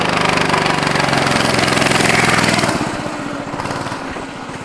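A small minibike engine runs loud and close on its first shakedown ride. It gives a steady, rapid buzzing putter, then eases to a lower, choppier idle-like chug partway through. No one speaks.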